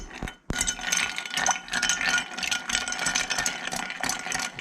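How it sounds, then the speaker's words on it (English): A bar spoon stirs a Manhattan cocktail with rye and gum syrup over ice, giving a steady, close, quiet rattle and clink of ice against glass, with no talk. "All right, I'm going to stir that up."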